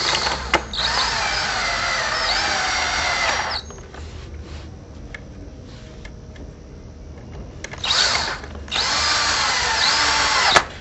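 Power drill driving screws through pre-drilled holes to fit a T-post into a wooden shutter frame, two loud sustained whirring bursts close by separated by a quieter pause, with no talking.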